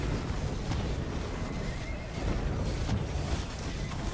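Horses neigh and whinny amid clip-clopping hooves during a guild-versus-guild battle in a video game, a dense, steady din with no talking.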